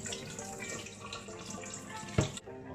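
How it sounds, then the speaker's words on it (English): Water splashes and trickles as nuts and corn are mixed and washed in a bowl, a steady close sloshing with one brief louder splash near the end. "This method allows me to mix the nuts and the corn and wash them as well."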